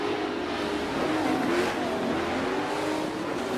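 A race car driving fast around the Road Atlanta circuit, its engine holding a steady loud roar with slight pitch shifts through the corners.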